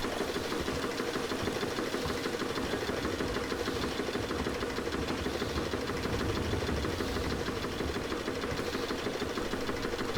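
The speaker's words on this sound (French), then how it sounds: "Par un système de roues et de bielles, la machine entraîne une courroie de cuir reliée à la cardeuse à l'étage au-dessus." A nineteenth-century textile mill machine turns wheels and connecting rods to drive a leather belt to a carding machine, producing a continuous, even mechanical clatter with a fast regular rhythm, steady throughout and free of voices.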